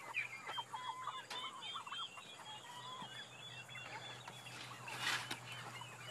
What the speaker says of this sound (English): Here we have roosters and stuff.